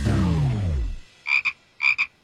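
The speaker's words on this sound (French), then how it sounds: "Pas aujourd'hui, ma grande grenouille." A cartoon frog croaks twice in an animated children's show, each time a close, buzzy double croak. Just before the croaks comes a falling, swooping sound effect.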